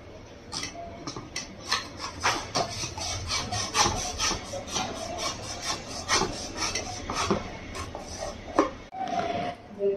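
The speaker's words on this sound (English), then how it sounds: "First of all, we need a sprinkle box and we need a blade. Now we will cut it." A blade saws through a cardboard sprinkles box in quick, irregular rasping strokes, dry scratchy scrapes repeating close up for the whole stretch with no voices.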